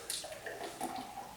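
Smoothie pouring into a clean glass, a steady liquid stream running for about a second and a half at close range, with no talking.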